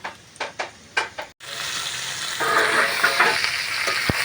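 Onions frying in hot oil until reddish: a few quick scrapes and knocks of a spoon on the pan, then a sudden loud, steady sizzle that swells and continues to the end.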